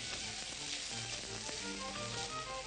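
Onion and ginger reduce with sherry in a hot pan over high heat, producing a continuous, quiet crackling sizzle with faint stirring scrapes and no voices.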